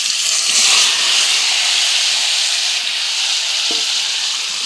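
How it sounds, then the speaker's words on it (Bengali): Meat tipped into hot oil already browned with bay leaf, cardamom and cloves, giving a loud, steady sizzling hiss with faint stirring scrapes underneath, close and continuous, no speech. "এবার এই মাংসটি আমি এদিকে ঢাইলা দেবো।"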